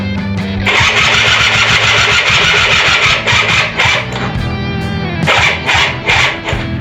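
A quad ATV engine with the choke on is cranked by its electric starter in a loud, close, continuous whirring grind, with brief dips and a restart of cranking near the end.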